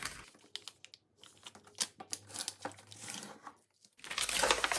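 Crisp paper crinkles and rustles close by as a square sheet is creased along its diagonal, with soft scraping strokes and short pauses between bursts, ending in a louder rustle.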